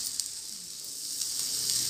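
Mixed dal appe sizzle while cooking in a pan, a steady close hiss of frying oil with faint crackles, no talking.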